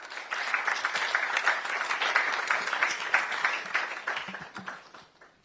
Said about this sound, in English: Look at how you are clapping.